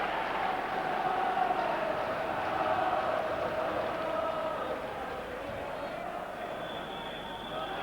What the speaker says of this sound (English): we get a huge ovation from the crowd